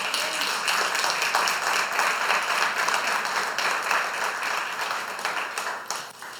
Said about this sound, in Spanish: Le damos un aplauso al Señor.